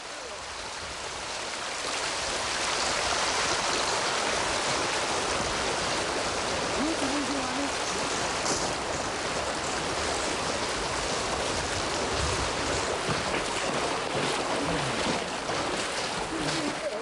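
A Himalayan river flows in a loud, continuous broadband roar of rushing water that swells in over the first two seconds and then holds steady, with no one speaking.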